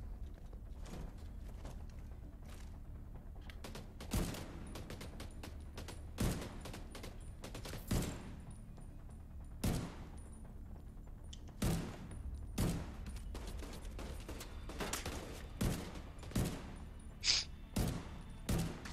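Gunfire in The Division 2: repeated sharp shots and short bursts crack out over a steady rumbling game background, irregular in rhythm across the whole stretch, with voices talking now and then.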